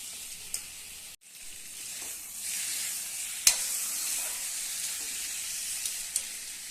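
Pieces of jackfruit sizzle steadily in a hot pan, a constant hissing fry with a few sharp scraping taps from stirring, at moderate closeness and no voices.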